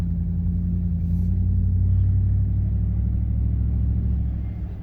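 A car with a faulty automatic transmission makes a 1-2 gear shift, heard as a low, steady engine rumble whose pitch drops partway through before fading slightly at the end.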